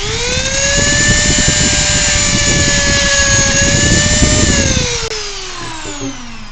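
A Dremel rotary tool spins at 35,000 RPM cutting into clear plastic, a loud, steady high-pitched whine with a gritty cutting rasp underneath that drops away as the tool pitch slides down near the end.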